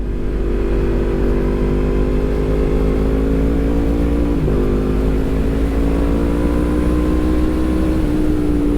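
A loud Yamaha MT-10 motorcycle with a crossplane engine, Stage 1 tuned to 183 hp, drones and pulls hard as it accelerates, rising in pitch, dipping briefly at a gear change, then climbing again.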